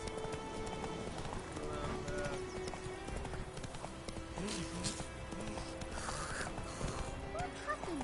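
Roach, a horse in The Witcher 3, gallops with a steady rhythmic clip-clop of hooves under continuous game ambience and music, with a brief whinny partway through.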